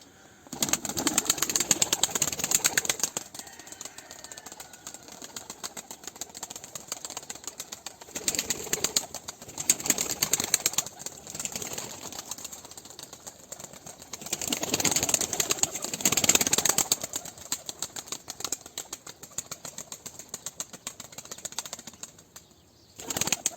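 Repeated bursts of a pigeon's wings flapping in noisy flurries, separated by quieter stretches of rustling and low background hum.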